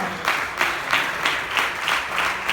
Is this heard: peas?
no